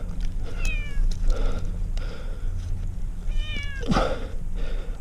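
A rescue cat meows several times, clear and close, with a short drawn-out cry and a later sharper one, while a person talks softly nearby.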